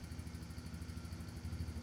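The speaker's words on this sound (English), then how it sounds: "Start the engine and let it run for 2 to 3 minutes." A Polaris Outlaw 70 youth ATV engine, a 2021 or later model, runs at idle, putting out a faint, steady, rapid putter with a slight clattering pulse and no voices.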